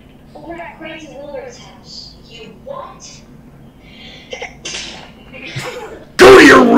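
Voices talk through a movie scene set around a wedding, then a sudden, loud, explosive sneeze bursts out at the very end.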